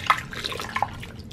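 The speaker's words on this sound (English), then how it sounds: "Add a cup of water" A cup of water is poured into a crock pot, giving a brief, quiet splash and gurgle with a few light drips over a second or so.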